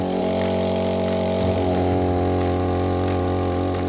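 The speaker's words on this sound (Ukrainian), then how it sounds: "Ну що, запускаємо двигун і вирушаємо в плавання." A floating houseboat's motor runs in a steady, even drone with a strong low hum, close and loud throughout and with no voices.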